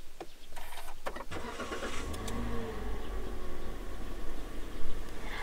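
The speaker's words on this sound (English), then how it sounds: "ipupush lang siya para mag-start yung engine" A Toyota Rush engine started by push button: a short cranking burst catches into a steady, moderately loud idle rumble close by, with no talk over it.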